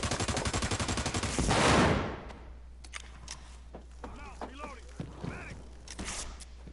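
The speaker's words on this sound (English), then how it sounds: "Oh my god, shotgun." Shotgun and automatic gunfire in the Ghost Recon Wildlands video game on PS4, a fast rapid burst of shots building to a loud blast, then quieter sporadic sounds under players talking.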